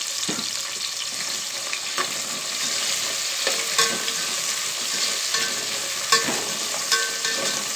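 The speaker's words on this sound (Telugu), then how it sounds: "అవి నూనెలో వేగుతున్నప్పుడే ఒకసారి కలుపుకుందామండి" Whole garam masala spices frying in hot oil in a pan while being stirred, a steady close sizzle with occasional scraping stir strokes and small crackles throughout, no voices.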